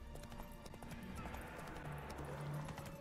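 Hoofbeats of Geralt's horse Roach galloping in The Witcher 3 on PS5, a steady clip-clop rhythm under game music and ambience, with an occasional whinny.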